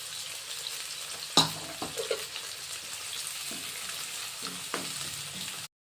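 Chopped medium onion dropped into a pan with mustard seeds for bitter gourd gojju, a soft continuous sizzle with a few stirring clatters and taps, quiet and without talk.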